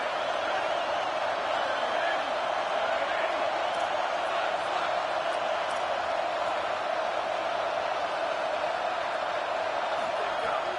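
A football stadium crowd at an LSU college game keeps up a continuous, dense roar that stays loud and steady throughout, with no clear breaks.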